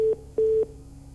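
Telephone disconnect tone on a dropped phone call: a few short, steady electronic beeps at one pitch, loud and alone.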